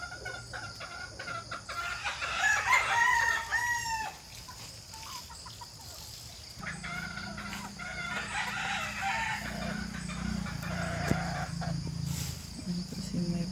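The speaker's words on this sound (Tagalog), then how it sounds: "Yan po mga manok ni Mike po" Chickens being fed crow and cluck, with a rooster's call standing out early among continuous clucking, while crickets and insects buzz steadily in the background.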